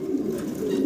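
Low, steady cooing from a Romanian Beauty pigeon, an ice-coloured male, continues without a break through the whole moment, close and clear with no talking.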